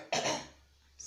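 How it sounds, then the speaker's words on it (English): A single short rough throat clearing from a man coming down with the flu, close and alone, fading into quiet. "that's why I'm keeping on clearing my throat"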